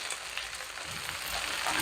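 Tomatoes and bell pepper stirred in a pan for Peshawari chicken karahi, a soft continuous sizzle with faint scraping, fairly quiet and with no talk.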